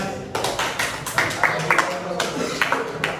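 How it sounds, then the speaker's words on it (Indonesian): Clapping from a classroom of students, a quick run of sharp overlapping hand claps that goes on throughout at moderate loudness, with voices mixed in. "Tepuk tangan dulu dong, Mas."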